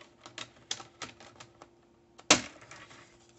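A paper trimmer slices through a sheet for a scrapbook album pocket: light clicks and taps of positioning, then one sharp, close cutting swipe, followed by quiet.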